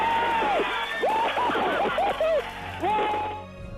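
Mission control erupts after a Mars landing: several excited voices whoop and cheer in rising, overlapping shouts over a bed of clapping and crowd noise, close and lively, easing off toward the end.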